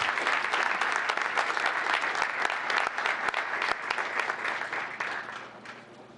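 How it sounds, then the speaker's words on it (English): Round of applause from the audience at a town council meeting, sustained dense clapping for about five seconds before tapering off toward the end. "Let's give group 3 a big round of applause."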